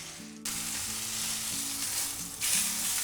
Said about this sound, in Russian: Немного масла. Обжариваем сначала с одной стороны.